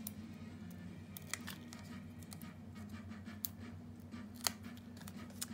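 Adhesive backing is peeled from paper card pieces for an ornate garden card, giving quiet, close scratchy tears and crinkles in short separate bursts over a faint hum.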